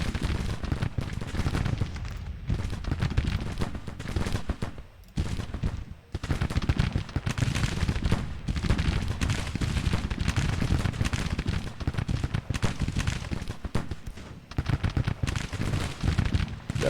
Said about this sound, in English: I actually get all my brigades firing at the same time